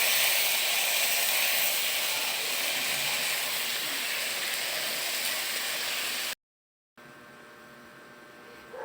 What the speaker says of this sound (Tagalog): kumukulo na yung ating sabaw